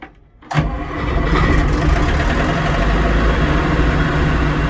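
A combine harvester's engine cranks briefly, then catches and settles into a loud, steady, deep rumbling idle close by, with no voices.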